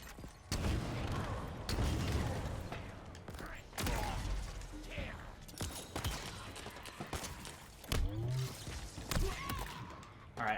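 Rocket launcher firing and exploding in Halo Infinite: repeated heavy booms and blasts scattered through a noisy firefight, loud and close, with muffled voices and gunfire around them.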